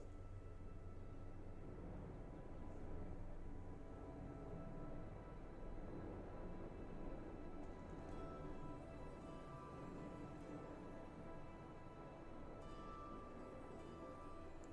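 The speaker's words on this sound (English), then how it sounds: "There was a helicopter." A low-flying helicopter passes overhead as a steady, dense rumble and whir that fills the background continuously, distant-to-near without any talking over it.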